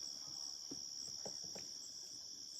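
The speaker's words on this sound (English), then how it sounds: "Crickets, literally." Crickets chirp in a steady high-pitched trill, quiet and continuous, with a few soft faint taps underneath and no voices.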